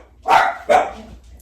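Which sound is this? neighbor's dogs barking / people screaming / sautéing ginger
neighbor's dogs barking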